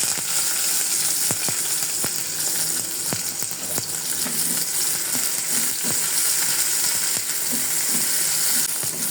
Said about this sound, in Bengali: তেল দিয়ে দিয়েছি, এখন পেঁয়াজ কুচি দিয়ে দেবো।